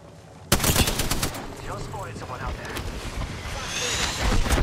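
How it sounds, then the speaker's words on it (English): Rapid video game gunfire bursts under excited multiplayer chatter, a sharp onset followed by dense crackling shots that continue at moderate loudness. "Opening fire."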